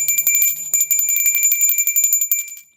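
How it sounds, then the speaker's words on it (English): A small hand bell rings rapidly and repeatedly, bright and loud, its shimmering tones ringing continuously for a few seconds with no voices. "I found my little bell for this momentous occasion."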